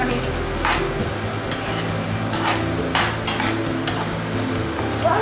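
Pepper chicken coated in masala sizzles in a pan while a spatula stirs and scrapes against the metal in repeated strokes, a steady frying hiss underneath.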